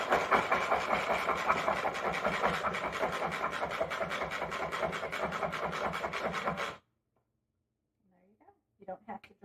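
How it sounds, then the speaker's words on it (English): A hand-pulled manual food processor chops ingredients in a kitchen, a fast rhythmic whirring and rattling of spinning blades for several seconds, then stopping abruptly before a voice speaks. "we're going to use our manual food processor"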